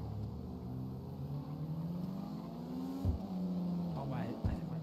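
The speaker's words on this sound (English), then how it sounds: "That car sounds so good." A modded car engine in a street racing video game, a steady, moderately loud hum with rising and falling pitch, then a couple of sharper revs toward the end. A person talks over it.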